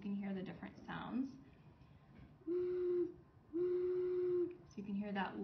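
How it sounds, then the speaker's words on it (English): A large clay whistle sounds two sustained low notes in succession, each about a second long, steady and clear, with a voice talking before and after them. "So I'll go ahead and play on these whistles so you can hear the different sounds."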